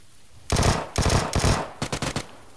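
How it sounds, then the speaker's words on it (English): Automatic gunfire from PUBG, heard as three close, loud bursts of rapid shots, the last broken into short separate volleys, with no talk over it. "Are you shooting at someone down there?"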